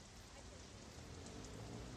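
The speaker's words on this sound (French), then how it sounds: "il pleut, le vent souffle" Steady rain falling on a gray, windy, cold October Sunday in Paris, a continuous broadband hiss with no breaks, fairly quiet and even throughout, with no voices present.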